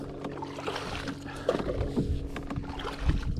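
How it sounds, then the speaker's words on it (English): A fisherman paddles a kayak with a landing net in place of a paddle. Soft splashes and knocks against the hull come in an uneven rhythm, close by and fairly quiet. "I know to pick up the net and just paddle with the net."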